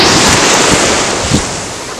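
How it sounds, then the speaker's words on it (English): Surf rolling onto a beach on a gorgeous day, a steady broadband wash of breaking waves with a couple of swells rising in the low end, loud and continuous with wind buffeting the microphone. "This beach is so gorgeous."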